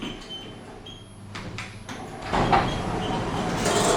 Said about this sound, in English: This is the really grotty Aylesbury Fryerscroft car park with original Otis lifts from the 80s